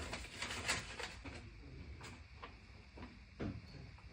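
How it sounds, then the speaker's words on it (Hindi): A hotel room door at a Premier Inn in Glasgow is unlocked and pushed open, giving a few quiet clicks, knocks and a soft sliding thud close by in a hushed room. "और ये खुल गया मेरा दरवाजा।"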